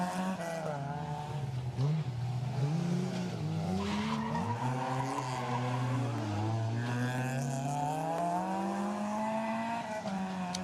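A Legend-category race car, a small car of roughly 100 to 150 horsepower, wearing number 96, passes close by at a circuit with a loud, continuous engine note that rises and falls alongside sustained tyre squeal.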